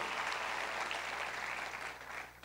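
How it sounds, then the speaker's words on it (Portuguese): A church congregation claps in praise during a worship service, a soft, steady wash of applause that stays even throughout with no voice over it. "Aplauda o nome do Senhor"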